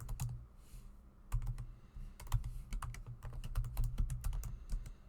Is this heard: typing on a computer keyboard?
yes